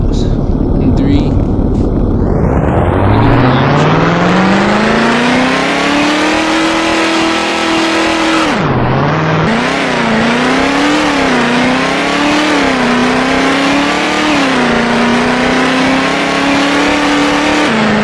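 A new car accelerates hard on a road in Texas. The loud, close engine note climbs steadily in pitch, dips sharply at a gear change about halfway through, then winds up again and holds high to the end.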